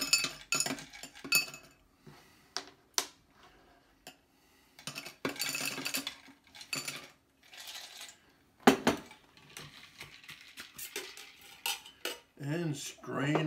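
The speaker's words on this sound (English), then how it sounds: "fill it with ice." Ice cubes clatter into a highball or Collins glass while a Tequila Sunrise is being mixed, a run of close, bright clinks and rattles in uneven bursts with brief pauses between scoops.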